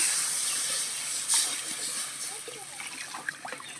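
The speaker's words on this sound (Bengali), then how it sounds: "এবারে দিয়ে দেবো জল" Water poured into a pan of frying spices for an eggless cabbage omelette curry, giving a brief loud hiss and steamy sizzle, then bubbling crackle, close up, with a voice speaking briefly.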